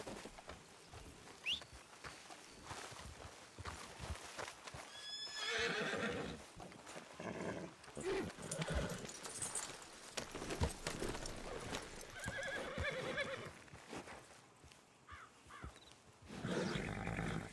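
Horses in a western roleplay video game, with repeated neighs and whinnies over a busy stretch of hoof clip-clop and background game noise, fairly close and lasting throughout.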